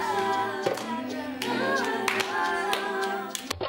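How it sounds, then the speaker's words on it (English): Hands clap as body percussion in a drum circle, crisp claps over sustained tonal background music, fairly loud and steady. "we can apply the same drum circle skills to body percussion, clapping, snapping, and stomping"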